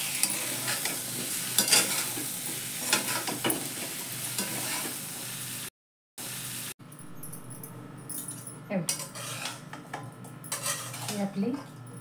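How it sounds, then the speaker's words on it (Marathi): A spoon stirs and scrapes potato and peanut usal as it sautés in a pan, giving repeated metallic clinks and scrapes over a soft sizzle, with a brief break partway through. "मस्त अशी उसळ परतून घेतली"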